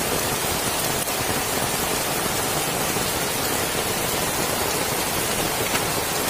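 Steady, dense rain falls heavily and continuously outdoors, with a loud, even hiss throughout and no gaps or voices.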